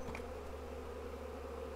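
A single agitated honey bee buzzing close by at a Flow Hive during a brood inspection, a steady faint drone over low background hum.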